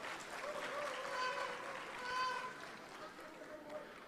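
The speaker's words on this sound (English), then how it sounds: "A round of applause for them, please." A crowd at a political party's manifesto launch claps in a steady, moderately distant ovation, while a voice talks over the applause.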